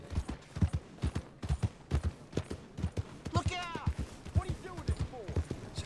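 Horse hooves clip-clop in the video game Red Dead Redemption 2, a steady, evenly spaced trot of close, distinct hoof strikes, with a brief voice-like tonal call rising midway.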